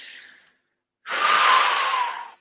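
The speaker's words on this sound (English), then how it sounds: "Take a breath." A single deep, drawn-out breath, loud and close, rushing in for about a second and a half after a softer earlier exhale and a short pause.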